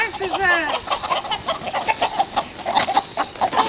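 Chickens and roosters clucking close by in a busy, uneven stream of short calls, with a brief vocal sound near the start and steady outdoor noise behind.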